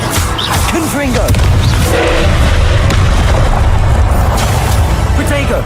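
A Confringo explosion spell bursts in Hogwarts Legacy amid combat, a loud, dense boom and rumble that fills the whole stretch with crackling impacts, while a voice talks over the noise.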